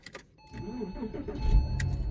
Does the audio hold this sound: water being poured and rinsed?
no